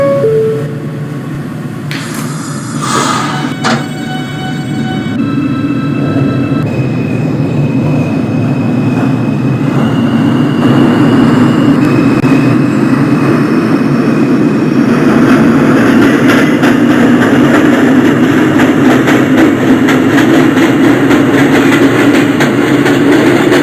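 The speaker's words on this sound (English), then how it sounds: "This is a Brooklyn-bound J local train." An R-160 subway train on the J local in an Openbve simulation accelerates from a stop, its motor whine rising in pitch over a loud, steady rumble of wheels on track that builds and holds.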